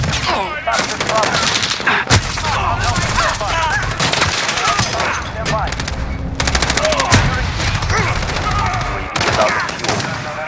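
Dense bursts of automatic gunfire from Call of Duty: Modern Warfare, loud and close, with rapid rattling volleys and sharp single cracks throughout, under game voices calling out.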